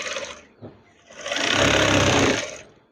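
A sewing machine stitches curtain fabric, starting with a brief quieter run, then settling into a loud, steady mechanical whir for over a second before slowing to a stop.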